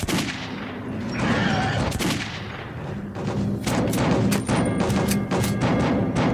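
Heavy gunfire fills a battle in the video game Metro 2033, with rapid overlapping shots and booming blasts, loud and continuous for several seconds.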